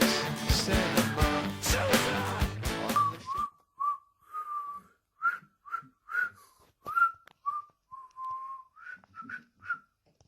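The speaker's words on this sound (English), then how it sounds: "so I can't nonchalantly whistle" Music plays for about three seconds and then cuts off, after which a person whistles alone in short, clear, high phrases with gaps of silence between them.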